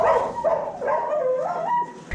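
Racing greyhounds at a track weigh-in give off a continuous run of close, loud whining and whimpering with yelping barks, nearly two seconds of high wavering cries and one sharp thump at the end.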